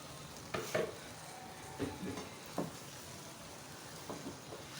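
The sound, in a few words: tomato puree added and sizzling in pan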